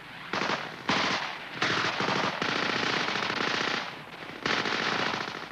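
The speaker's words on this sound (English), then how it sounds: "the cover group puts down suppressive fire with everything they've got" Suppressive machine-gun fire from the cover group of an infantry fighting patrol, heard as several loud, sustained automatic bursts separated by brief gaps.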